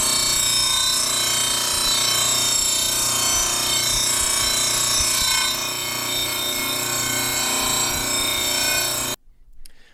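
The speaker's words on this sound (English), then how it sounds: "I have a little bit better tool, and I'm going to do a 240 grit buff on this" A power tool buffing a metal spatula at 240 grit, a loud continuous whirring grind that holds steady for about nine seconds and then cuts off abruptly.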